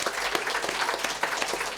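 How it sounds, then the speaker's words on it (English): Applause for mothers at a leadership talk: a short, dense burst of clapping from an audience, steady and fairly close throughout. "Let's give the mothers a round of applause"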